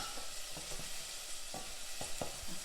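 Onions frying and being stirred in a pan, a steady soft sizzle with a few scraping stirs, close and without talk.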